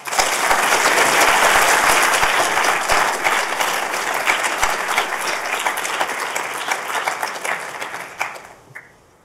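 A full round of audience applause at a university student project showcase, loud and dense at first, then gradually thinning and tapering off toward the end.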